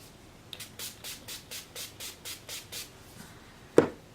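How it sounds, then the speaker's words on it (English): About ten short hissing sprays of makeup setting spray in a steady rhythm, close up on a face, followed by one sharper spray burst at the end. "That was a lot of spray."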